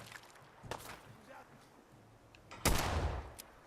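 Gunfire in the video game Fallout 4, with a few sharp shots early on and then a louder, sustained burst of shooting near the end, over a low background hum and some talk.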